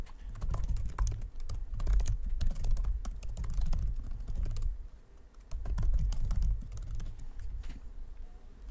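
Typing on a computer keyboard while filling in a website sign-up form, a steady run of close, dense key clicks with brief pauses and no voice.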